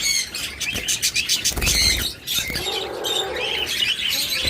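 Lutino red-eyed pet birds in a breeding pair chirp and squawk steadily and close by, with bright overlapping calls and a brief flutter of wings partway through.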